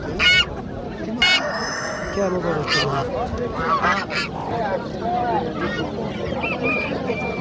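Turkeys, large and small, at a Namangan bird market give loud honking gobbles in short repeated bursts, close by, among other fowl and market noise while someone speaks.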